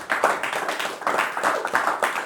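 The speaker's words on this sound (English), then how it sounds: "everybody claps for John Egan" A small talk-show audience applauds guest John Egan with steady, even claps at close range, continuing throughout without a break.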